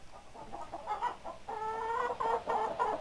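Several chickens cluck and squawk in a steady, overlapping chatter, moderately close, with no talking, in the train simulator game Trainz.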